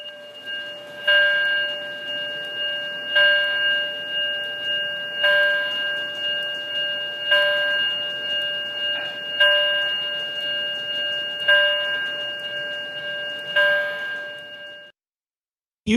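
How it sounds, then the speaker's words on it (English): A steady electronic fire alarm tone sounds continuously with a repeating pulse about every two seconds, loud and close, then cuts off abruptly, in a residence hall. "And this is the alarm sound for Mount Blakiston House."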